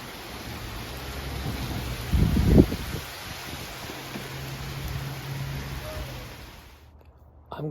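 Steady rain falls over Williamstown, Massachusetts during a wet Mount Greylock hike on the Appalachian Trail, a constant hiss with a brief louder rumble or thump partway through before the wash thins out near the end.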